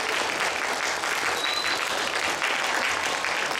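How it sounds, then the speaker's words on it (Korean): Steady, dense audience applause at a talk concert welcomes a professor to the stage, continuous broadband clapping from a crowd with no speech over it. "우리 큰 박수로 환영해 주세요."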